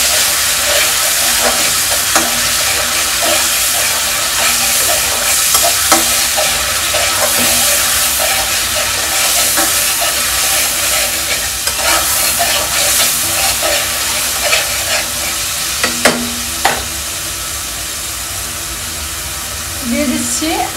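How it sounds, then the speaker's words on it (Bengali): Onion and garlic paste fries in hot oil for a Bengali poa fish curry, giving a dense, continuous sizzle with occasional spoon scrapes and clinks throughout a long stretch. "এরপরে আমি এটাকে 1 মিনিটের মতো কষিয়ে নিচ্ছি"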